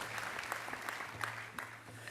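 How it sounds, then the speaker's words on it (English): Sustained applause from the audience at a Sydney graduation ceremony, a dense, steady wash of many hands clapping with some crowd murmur and a low hum underneath. "Give yourself a round of applause."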